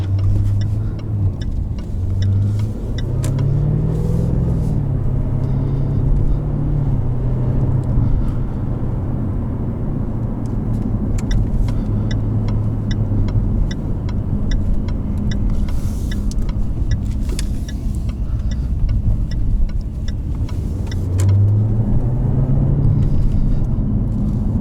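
A 2021 Jaguar F-Type R with loud exhaust driving in dynamic mode, a deep steady engine rumble from inside the cabin with occasional rising revs, alone without talk.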